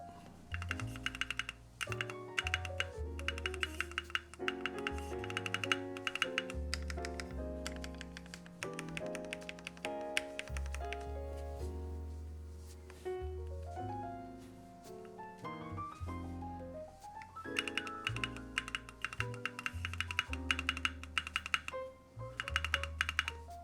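Steady clicky typing on a Vast 60 mechanical keyboard with Gateron Milky Black switches and ePBT keycaps, close and continuous, with music playing alongside throughout.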